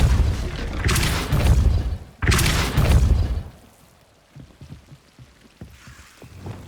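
Depulso spell cast in Hogwarts Legacy, two loud booming bursts of force in quick succession, followed by quieter scattered clicks and thumps as the effect fades.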